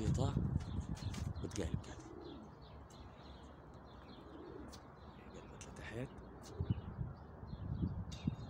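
Pigeons coo nearby in repeated throaty rolls, with bird chirps scattered through and someone talking over them at times.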